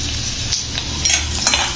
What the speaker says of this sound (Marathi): आता हा लसूण परतून घेऊया